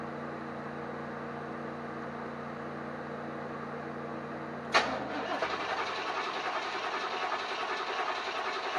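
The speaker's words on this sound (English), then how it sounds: "So now the idea is we need to fire up the engine." A car engine cranks and catches with a sharp burst about halfway through, then settles into a steady, even idle, following a humming stretch beforehand; nearby and fairly quiet overall, with no talking.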